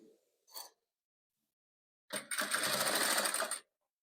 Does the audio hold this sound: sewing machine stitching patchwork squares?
yes